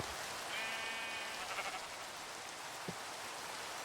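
Sheep in a video game bleat in a brief, thin call near the start, set against a steady patter of rain that runs through the whole stretch, with a small tap later on.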